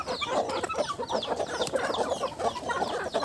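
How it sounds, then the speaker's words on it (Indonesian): Several free-range village chickens cluck busily and overlap one another while jostling at feed, a close, continuous chatter of short calls with no voices. "Ini ayam sudah berebut, ini wis ngenteni ya, jadi mereka benar-benar lapar."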